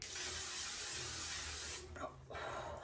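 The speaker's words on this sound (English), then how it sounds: "I like to set it, this is the L'Oreal Infallible Setting Spray." L'Oreal Infallible Setting Spray mists onto a face in one long, close hiss lasting almost two seconds, followed by two brief quick puffs.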